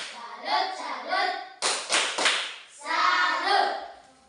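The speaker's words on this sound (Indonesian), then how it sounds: "Mari kita memberikan satu kali tepuk salut untuk Alvin" Children in a primary school religion class clap a short rhythmic 'tepuk salut' salute of several quick sharp claps, between chanted and spoken voices.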